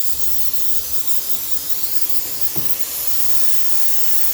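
Parts cleaner aerosol can spraying in a steady, close hiss that runs for the whole stretch, with no voices over it.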